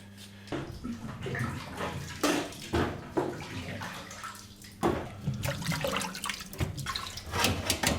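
Water running from a tap into a big 20-litre pot for boiling potatoes at a Berlin street food stall, a steady splashing gush with small bursts and shifts, no speech.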